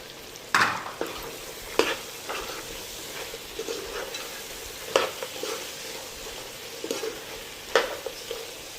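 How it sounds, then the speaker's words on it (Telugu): A spoon scrapes and knocks through country chicken curry with garam masala in a pan, several distinct stirring strokes spaced a second or so apart over a soft, continuous sizzle. "నిమిషం పాటు మగ్గింది కాబట్టి దీన్ని మనం మంచిగా కలిసుకుందాము."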